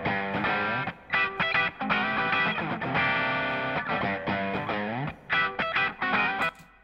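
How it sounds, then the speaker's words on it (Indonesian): Distorted electric guitar sent to a room reverb effect, playing sustained chords and short choppy bursts separated by brief gaps, loud and close with no voices. "Ini kita pakai room reverb, kita kirim dulu, kita dengerin."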